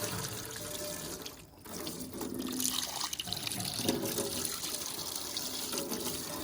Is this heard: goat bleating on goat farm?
no